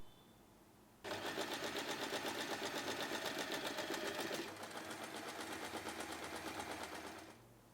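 A sewing machine top stitches both edges of a folded fabric tab, running as a fast, even mechanical chatter for about six seconds with a brief slowing midway, then stopping.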